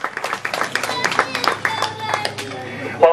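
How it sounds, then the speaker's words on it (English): A zoo audience gives scattered, uneven clapping for marching flamingos, sharp claps rising and falling over a few seconds, with voices chattering underneath. "that's our cue right there for some applause for the birds"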